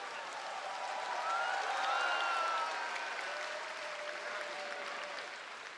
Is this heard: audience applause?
yes